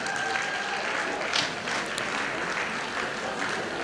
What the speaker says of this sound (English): If you are Igbo here, please clap for yourself.